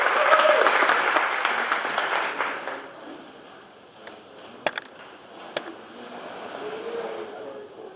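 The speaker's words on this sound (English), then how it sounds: "One round of applause, please." Audience applause at a live talk event, a dense burst of clapping that is loud at first and then thins out to a few scattered claps and faint murmuring.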